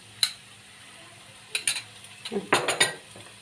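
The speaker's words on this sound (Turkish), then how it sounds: "Arkadaşlar soğanım kızardı. Kavruldu. Şöyle de salçasını atayım." Tomato paste dropped into a pan of browned, fried onions, with a few sharp clinks of a spoon against the pan and brief bursts of stirring and sizzling, close by with no talk.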